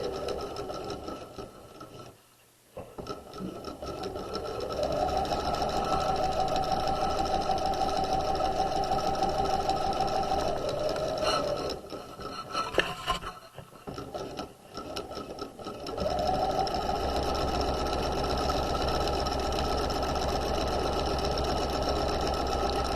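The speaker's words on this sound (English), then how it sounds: "we're going to stitch down the seam, keeping the edge of the fabric at the 5/8 inch mark" A sewing machine stitches the curved crotch seam of pajama pants, running loud and close in long steady stretches with a brief pause midway, then starting up again.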